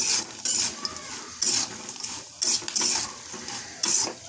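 Flattened rice (chura) with cumin, chili, herbs and peanuts tossed in oil in a pan, rhythmic metal scraping strokes roughly once a second over a faint frying hiss, close by.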